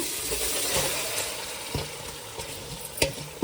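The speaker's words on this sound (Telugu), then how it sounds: "ఇప్పుడు మ్యారినేషన్ చేసి పెట్టుకున్న చికెన్ వేసుకుందాం మనం." Marinated chicken dropped into fried masala in a pan for donne biryani, a steady loud sizzle with stirring scrapes and a few sharp pops, no talking.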